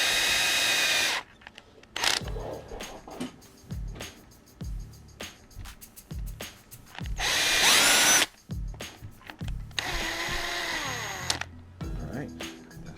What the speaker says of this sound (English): Go ahead and screw this thing back together.